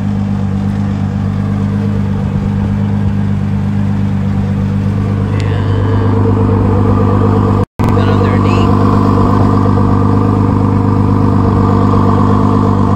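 Ford GT Heritage sports car engine while driving, a loud steady droning hum from the cabin with a low engine tone throughout and one brief dropout.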